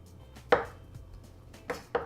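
A knife cuts the pith off an orange on a board: a few sharp, close chops at uneven intervals, with quiet pauses and no talking.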